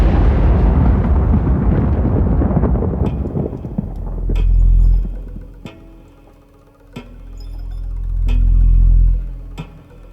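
A cinematic supernova explosion effect in a VR experience: a loud, rumbling roar that fades, then deep booming swells punctuated by sharp ticking clicks and crackles.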